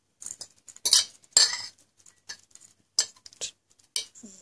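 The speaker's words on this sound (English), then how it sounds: "so tip in all the ingredients in there." Bombay mix snack ingredients are tipped into a bowl in a series of short, crisp clattering and rattling bursts with quiet gaps between them.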